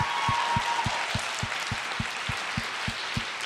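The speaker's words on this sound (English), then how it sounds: "I want to give you a round of applause for that." Audience applause during an interview, a steady wash of clapping with a regular low pulsing beat running beneath it.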